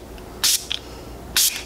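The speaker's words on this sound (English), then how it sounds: "I'm gonna take the Catrice Prime and Fine Dewy Fixing Spray" Two short bursts of Catrice Prime and Fine Dewy Fixing Spray misted onto a face, each a crisp near hiss about a beat apart, with quiet room tone between.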